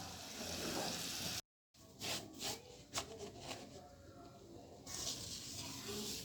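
Semolina roasting in a pan for halwa, a soft continuous sizzling hiss with light scraping and stirring taps from a spoon, fairly faint, broken by a brief silent gap and resuming steadily.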